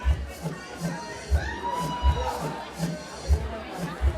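An audience at an art show in San Francisco cheers and applauds as artist Amber Brady comes out: a steady crowd roar with whistles and shouts, punctuated by loud rhythmic thumps throughout.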